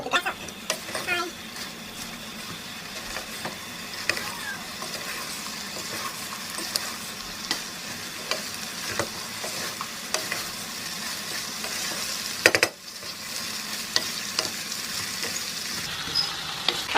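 Cabbage with spices fries in a pan while being stirred, a continuous sizzle with frequent scraping and clinking of the spoon against the pan, close up; a person talks over it at times.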